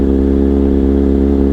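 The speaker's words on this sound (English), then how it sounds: "Now that is a CRT exhaust from SC Project." Kawasaki Z900 motorcycle fitted with an SC Project CRT exhaust, airbox removed, revving steadily up close, a loud continuous engine roar with strong low harmonics and no talk.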